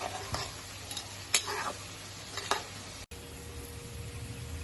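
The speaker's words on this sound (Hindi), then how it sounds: "इसे मैंने 6 से 7 मिनट तक इसको अच्छी तरह भून लिया है, और ये देखें ये भी फूल गए हैं, प्याज भी ब्राउन हो गया" Onions fry in a pan for an oil preparation, a soft continuous sizzle with a few distinct stirring scrapes and clinks of a utensil, heard close with no talking.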